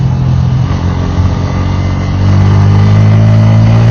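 A Bajaj Pulsar N160 motorcycle engine drones steadily while being ridden, a close, loud hum that swells louder and fuller partway through.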